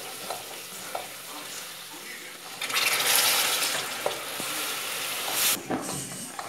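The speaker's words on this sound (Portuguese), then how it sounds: "Olha, gente, o caramelo está pronto." Thick jackfruit caramel being stirred in a hot pan, a close, steady sizzling scrape that swells louder midway with bursts of bubbling, alone without voices.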